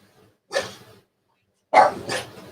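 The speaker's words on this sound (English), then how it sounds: "now both dogs are barking, Capone and Kinsey." Two bursts of dog barking, a short one and then a louder double bark, fairly close, with silence between.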